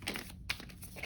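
Tarot and oracle cards are shuffled and handled up close, giving a quiet, steady crinkling and rustling with a few brief card snaps, and no voice over it.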